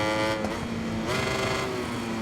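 Ducati V4 engine in the MotoGP 21 racing game revving steadily at Losail, a continuous high-pitched motorcycle drone with the pitch rising and falling as the throttle changes, loud and alone.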